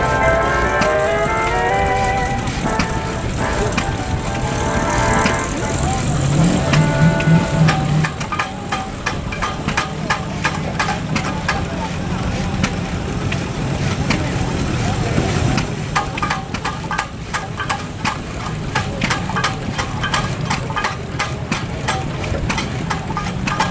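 Vintage cars at an agricultural vintage rally drive into the show ring, engines idling and rumbling steadily throughout, mixed with crowd noise and fairground music.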